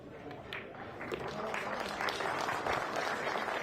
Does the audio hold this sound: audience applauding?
yes